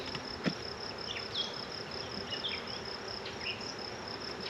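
A large honeybee swarm hums steadily as it is moved from a trap into a hive, a continuous close buzz with individual bees flying past the microphone.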